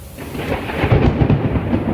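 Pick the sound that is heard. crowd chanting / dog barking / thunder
thunder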